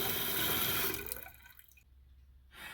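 Water rushing into a Mansfield toilet tank after a flush-valve replacement, a broad loud hiss of refilling that tapers off as the float rises and the fill shuts, followed by a short quiet pause and a brief burst of splashing.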